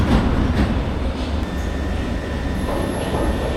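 A London Underground train rumbles steadily nearby with a low continuous roar and faint rail noise, a thin high whine appearing as it rolls in.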